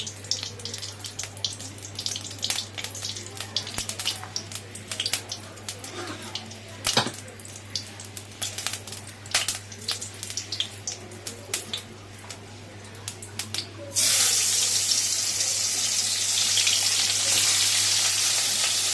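Fish fries in hot oil in a pan tempered with green chili and black cumin. A steady close sizzle with scattered crackles swells into a louder, fuller hiss partway through.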